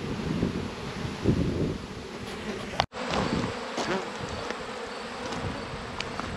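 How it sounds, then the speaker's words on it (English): Honey bees hum steadily around leftover hives after honey extraction outdoors on a fine day, a continuous close swarm drone with wind noise and one sharp bump. "The bees are cleaning these all out."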